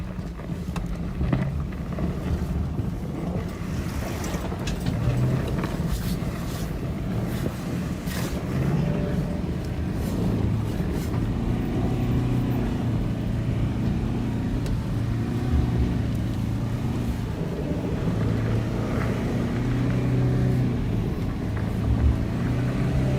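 A vehicle keeps driving steadily at close range with a continuous low engine drone and wind noise; a gear change into second comes through only as a subtle shift in the engine note, with no voices present.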